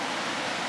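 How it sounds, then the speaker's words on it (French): A steady, dense roar of the Iguazu waterfalls in Argentina at night fills the short moment, constant and broad with no breaks or voices. "Ce que vous entendez là, c'est les chutes d'Iguassou à 23h"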